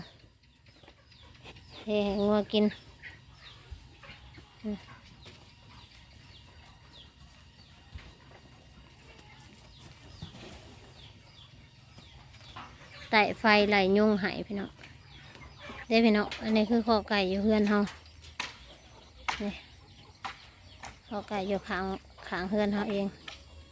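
Chickens in a farm pen, several loud clucking and crowing bursts in clusters over steady low background noise, with a person speaking between them.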